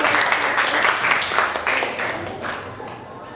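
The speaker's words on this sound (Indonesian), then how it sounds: "Kita beri tepuk tangan untuk kelompok 1." Students in a classroom clap for a group after its presentation, a loose burst of hand claps that gradually thins out and quiets toward the end.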